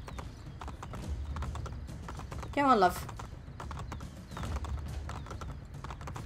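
In the video game Assassin's Creed Brotherhood, horse hooves clip-clop steadily at close range and a horse gives a short whinny partway through, while a voice speaks briefly over the hoofbeats.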